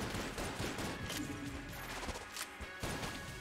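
Steady gunfire in Enter the Gungeon, a dense run of quick shots, smashes and crashes layered over game sound. The mix stays fairly quiet and continuous, with no voices over it.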